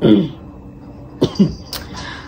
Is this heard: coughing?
yes